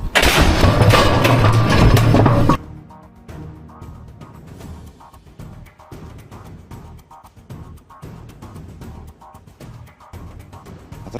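Artillery fire and explosions strike a target in a military bombardment, opening with a loud sustained blast-like roar for a couple of seconds, then quieter scattered thuds and crackles at a distance.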